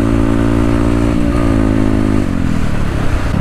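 A Honda Grom motorcycle engine revs continuously and loud up close, its pitch stepping as it accelerates through the gears.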